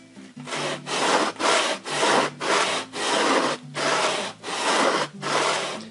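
Large sanding block rubbed back and forth across a balsa wood RC airplane wing, eight steady, loud rasping strokes in an even rhythm with brief pauses between them, no voices.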